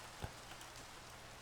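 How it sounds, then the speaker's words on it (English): Rain falling in the Minecraft video game, a steady soft broadband hiss with one brief louder patter near the start, faint and even throughout. "Oh, it's raining."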